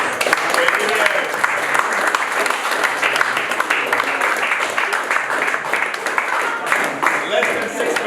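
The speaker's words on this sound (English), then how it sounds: "Let's give them all a warm round of applause." Steady, loud applause from a theatre audience at an awards event, dense clapping sustained evenly throughout with no pause, close and full.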